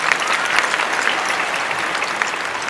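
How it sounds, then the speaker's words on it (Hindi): Steady, dense applause from a comedy show audience at Prayag Sangeet Samiti, loud and close, sustained without a break or any talk over it. "एक बार जोरदार तालियां।"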